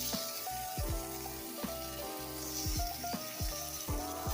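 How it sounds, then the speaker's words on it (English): Bacon sizzling in a pan, a steady close crackle and hiss of frying fat with scattered pops and spits, unbroken and without voices. "I love the sound of bacon sizzling"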